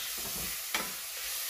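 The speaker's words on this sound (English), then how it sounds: "I am putting already the sliced bacon." Sliced bacon sautés in a pan for ginisang mongo, a soft continuous sizzle with one sharp utensil scrape near the middle of the short stretch; no voices.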